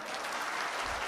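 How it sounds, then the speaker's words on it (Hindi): A devotional Shrimad Bhagwat katha audience breaks into loud, dense applause, many hands clapping continuously at close range. "ताली बजा दो।"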